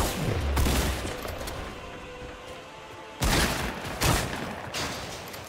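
Shotgun blasts from the video game Fortnite, a couple of sharp booming shots with crackling gunfire, heard fairly close amid game noise.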